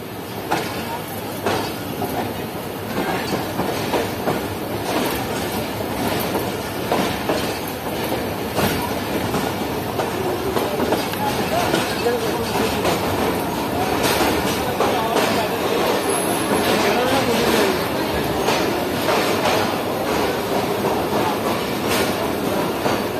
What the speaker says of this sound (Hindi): हमारी ट्रेन पहुंच रही है हैदराबाद जंक्शन रेलवे स्टेशन पर